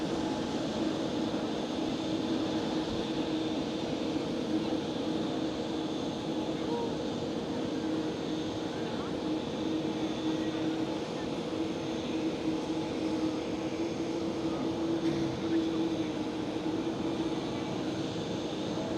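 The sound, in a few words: aircraft climbing out after takeoff from Schiphol runway 18L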